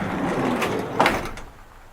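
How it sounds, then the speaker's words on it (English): A van's sliding door rolls along its track with a rumbling slide, then thuds into place near the middle, followed by a short rattle before the sound fades to quiet. "Alright, so check the sliding door."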